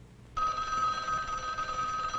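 A 1960s telephone bell rings steadily and fairly loud after a short moment of quiet, continuing without a break to the end.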